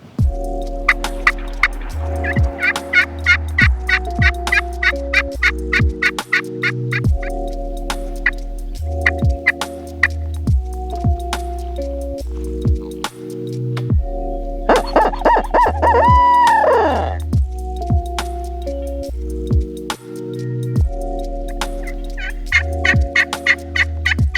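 Rio Grande wild turkeys gobbling outdoors in Colorado, with a loud burst of gobbling in the middle and more calls scattered over steady background music.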